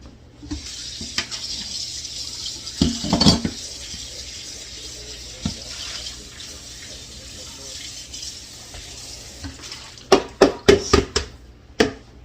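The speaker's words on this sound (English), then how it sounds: "I'm going to rinse this bowl out because I want to use it for the sugar." Tap water running into a bowl being rinsed in a kitchen sink during jam making, a steady hiss of flow with clinks and splashy bursts, louder knocks near the end.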